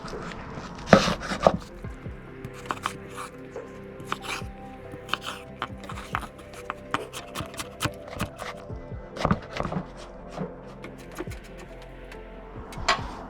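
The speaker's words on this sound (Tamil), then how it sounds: "இதை கொஞ்சம் சின்ன சின்னதாக வர்ற மாதிரி துண்டு துண்டாக வெட்டி எடுப்போம்" Home-grown tomatoes are chopped into small pieces on a cutting board, with irregular sharp knife knocks and clicks, some in quick bursts, against a quiet background.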